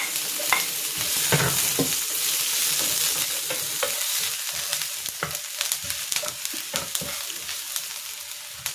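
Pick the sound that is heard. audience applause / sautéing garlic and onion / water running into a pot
sautéing garlic and onion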